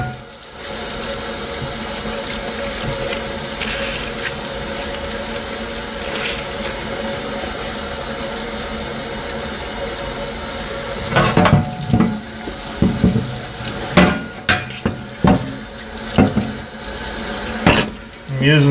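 Hot tap water running into a sink to rinse a new carbon steel wok, a loud continuous hiss that later breaks into splashing, clanking bursts as the pan is moved under the stream.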